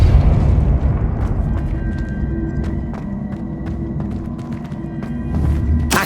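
Confringo and Depulso spell explosions boom in Hogwarts Legacy, a rolling deep rumble broken by repeated sharp blasts and cracks, loud and close throughout.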